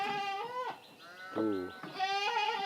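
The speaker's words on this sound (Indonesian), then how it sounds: "Ima embeknya." A goat in a rural Indonesian village bleats loudly at close range in three drawn-out, wavering cries, with short pauses between them and no talk.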